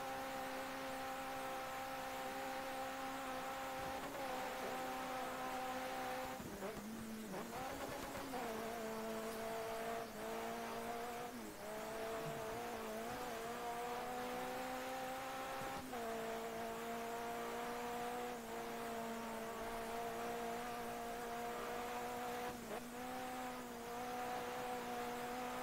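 A rally car engine in the racing game Dirt 3 drones steadily at high revs, its pitch dipping and climbing again at gear changes with a brief tire scrub, loud and continuous with no talk.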